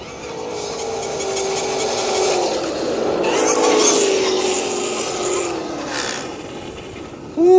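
On-board audio from a car shows a steady engine or road drone with harmonic tones sliding downward as the car brakes, ending in a sharp loud burst.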